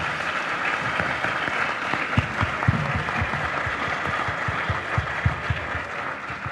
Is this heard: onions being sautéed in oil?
no